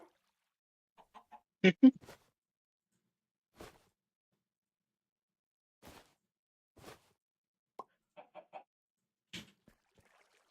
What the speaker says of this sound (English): Chicken just laid an egg, I heard.